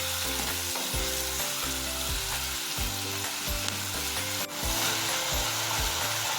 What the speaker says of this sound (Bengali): আমি এবার পেঁয়াজটা দিয়ে দেবো। আমি 2 মিনিটের মতো ফ্রাই করব মিডিয়াম ফ্লেমে।